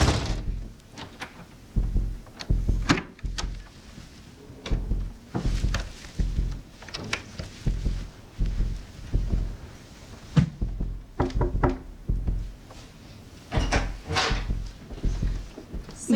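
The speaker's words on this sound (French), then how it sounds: "on entend la porte" Repeated heavy door thuds and knocks with a wooden, hollow quality sound in irregular bursts throughout, some louder than others, against low rumbling room noise.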